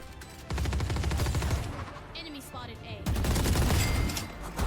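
Automatic weapon fire in the video game Valorant rattles out in dense rapid bursts, loud and close, pausing briefly before another sustained volley.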